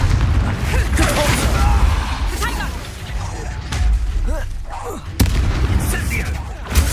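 Repeated fiery spell blasts of Confringo in the Hogwarts Legacy video game, booming bursts over a dense battle din with voices talking, sharp impacts landing near the middle and end.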